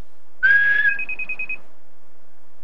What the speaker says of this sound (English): If you lose your keys, you just whistle, and it beeps.